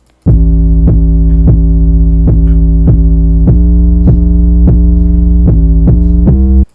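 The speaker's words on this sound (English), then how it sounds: "I do have this cut 808, just boosted it up like a fifth" A deep, booming 808 bass note pitched up a fifth repeats about a dozen times in a steady pulse, each hit sustaining heavily into the next.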